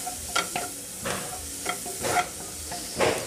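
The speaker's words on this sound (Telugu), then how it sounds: "నెయ్యిలో వేగుతుంది కదండి" Carrots frying in ghee sizzle steadily up close, with soft stirring scrapes recurring about every half second in a gentle rhythm.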